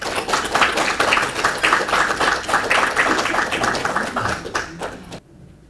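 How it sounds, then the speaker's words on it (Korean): An audience at a lecture for a course on architecture and construction claps, a dense and steady round of applause that goes on for about five seconds and then stops. "큰 박수로 맞이해 주시면 감사하겠습니다"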